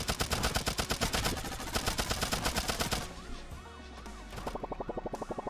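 Rapid, loud bursts of gunfire from shooting in the Turnip Boy Robs A Bank roguelite, rattling rhythmically, pausing briefly, then resuming in a quicker volley.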